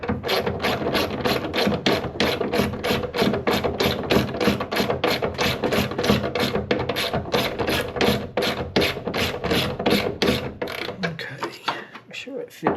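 A ratchet wrench with a 13 mm socket clicks in a fast, steady rhythm while tightening a bolt for an aftermarket high-lift hood strut on a 2003-2008 Subaru Forester, loud and close throughout before slowing at the end.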